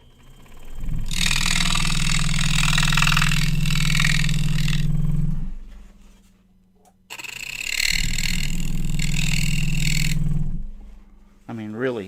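Scroll saw cutting thin 1/8 inch Baltic birch plywood, a loud steady motor-driven buzz in two long bursts with a pause between, ending with a short winding-down whine.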